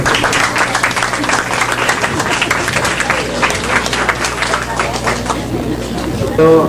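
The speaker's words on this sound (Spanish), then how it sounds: "Un aplauso, por favor." An audience at a school literary gathering applauds a group of secondary students, steady dense clapping filling the room with crowd murmur beneath, fading near the end.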